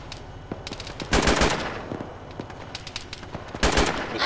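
Video-game gunfire in Arma rattles across an airfield runway: rapid automatic bursts with loud clustered volleys, dense and close, no voices.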